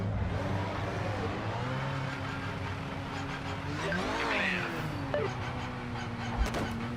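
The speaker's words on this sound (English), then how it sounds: "let's see what the Valkyrie sounds like" AMS Valkyrie race car engine in the Project Motor Racing video game, a steady droning tone that rises in pitch as it revs around the middle, with a brief sharp knock near the end.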